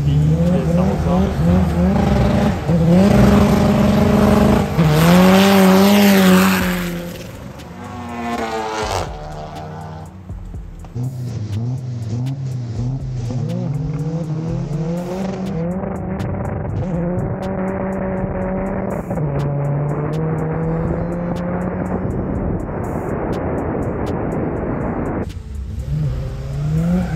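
A tuned Seat Arosa TDI with over 400 horsepower accelerates hard, its diesel engine climbing through rising revs in a loud, sustained pull, then easing to a steadier drone as the run continues, with faint voices now and then.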